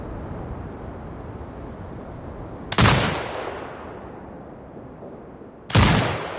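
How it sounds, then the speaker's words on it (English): An automated turret in the Sniper Ghost Warrior video game fires two loud, sudden bursts a few seconds apart, each hitting hard and then fading into a long rumbling tail over a low ambient drone. "Exit binocular mode and command the turret to fire."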